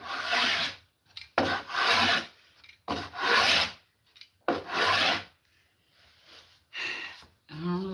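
Hand plane taking shavings off hundred-year-old wood, heard as four loud rasping strokes in close succession followed by quieter, shorter passes.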